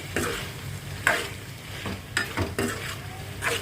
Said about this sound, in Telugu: అల్లం వెల్లుల్లి పేస్ట్ కూడా వేసి కొంచెం వేగనివ్వండి